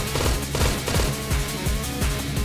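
Gunfire in the retro boomer-shooter game Withdrawal: a quick run of about six evenly spaced, punchy synthetic shots, loud and alone.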